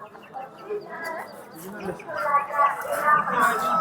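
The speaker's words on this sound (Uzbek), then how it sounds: "jo'jalar ekan." Chicks at the Qumtepa poultry market, a cluster of close peeping and clucking that swells toward the end, mixed with people talking nearby.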